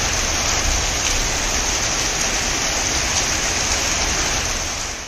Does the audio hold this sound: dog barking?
no